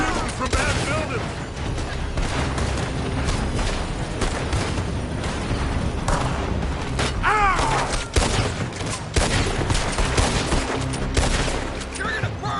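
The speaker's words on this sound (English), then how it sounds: "They're shooting from that building." A video game battle with gunfire coming from a building: dense, continuous rattling bursts of shots and booms rumble throughout, loud and layered, with people talking over the firefight.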